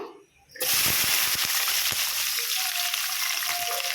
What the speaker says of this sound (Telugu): నూనె అయితే చాలా వేడెక్కేసింది. ఉల్లిగడ్డ, పచ్చిమిర్చి వేసేస్తున్నాను.